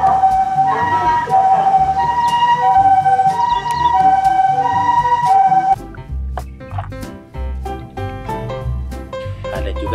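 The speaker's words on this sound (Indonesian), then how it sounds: "ada mobil ambulan teman-teman" A loud electronic siren from a toy ambulance wails in a repeating two-tone pattern, then shifts to a choppier, tinny toy-like warble with clicks.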